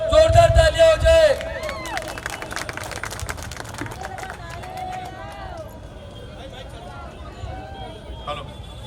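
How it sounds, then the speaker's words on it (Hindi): A political rally crowd for AIMIM leader Waris Pathan claps, cheers and shouts, loud at first with a blaring tone, then a rolling mix of voices, whistles and scattered clapping that fades somewhat. "हम सबके बीच में आए हैं वारिस पठान से, जोरदार तालियां हो जाए।"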